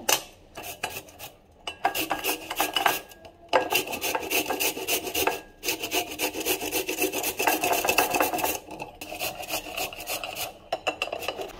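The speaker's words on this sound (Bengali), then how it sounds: "এবার হচ্ছে ভেজিটেবল গ্রেটার দিয়ে গ্রেট করে নেব" Peeled papaya is rubbed against a vegetable grater in steady, rhythmic rasping strokes, close and fairly loud, with brief pauses between runs.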